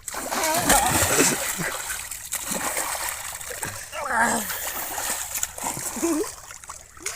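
Water splashing and sloshing with a continuous rushing flow as people jump into a canal in Jummaladinne village, voices talking over it throughout.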